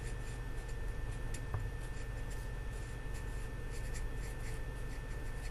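A marker or pen scratches softly and steadily on a board while an algebra equation is being solved, faint strokes over a constant low room hum and no talking.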